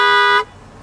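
A short single blast from the dual note horn of a Bentley Turbo R, loud and close, cutting off abruptly after less than half a second.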